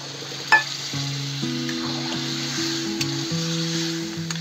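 Water hits a pan of sizzling broccoli, potato and pea curry, a steady hiss and bubble with a sharp splash near the start, under a background of tonal music notes.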